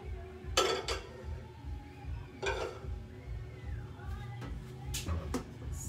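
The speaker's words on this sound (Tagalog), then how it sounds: "Mix muna tayo ng egg." Eggs being mixed in a bowl give faint, irregular clinks and scrapes of utensil against dish, quiet and fairly close, in an otherwise calm kitchen.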